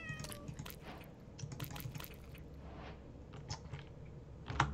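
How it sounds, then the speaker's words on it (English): A tamed cat in Minecraft meows a few times, with short mews near the start and near the end over a low, steady game background. "2 cats, and I tamed both of them."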